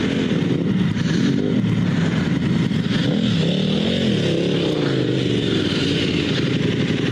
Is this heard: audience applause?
no